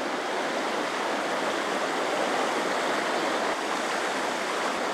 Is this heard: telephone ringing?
no